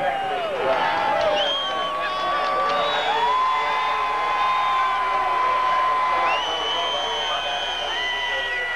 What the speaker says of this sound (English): there's a huge round of applause for Jeff Gordon in victory lane